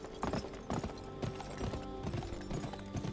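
Horse hooves clip-clopping in a steady galloping rhythm while riding in the Western video game GUN, close and clear with no talk.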